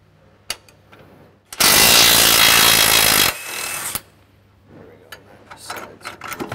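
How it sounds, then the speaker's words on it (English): Tools working on the lower shock bolt of a RAM 1500 with a 21 mm socket and wrench: scattered sharp clicks and knocks, then a loud, steady powered rattle of nearly two seconds, followed by more clicks. "Let's get this driver's side lower shock bolt out. It's a 21 socket on the nut and a 21 wrench on the bolt head."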